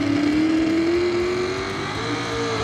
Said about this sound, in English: You can hear the horsepower behind the wheel of that old Ford, man.